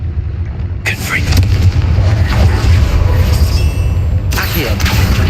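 The Confringo fire-blast spell goes off in the game Hogwarts Legacy, a loud booming explosion with a crackling burst that rumbles on for several seconds after a quieter start.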